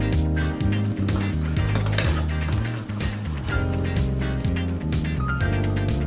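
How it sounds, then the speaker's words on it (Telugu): Mutton is stirred in a pan over fried onions and turmeric for an aloo mutton gravy curry, with a utensil scraping and clinking against the pan over sizzling and loud rhythmic music. "మటన్ యాడ్ చేసుకొని బాగా తిప్పుకోవాలి"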